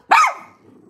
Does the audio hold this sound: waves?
no